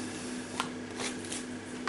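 Cards from the Deep Madness board game handled at a table: faint soft rustles and a few brief, sharp flicks and slides as the cards are sorted.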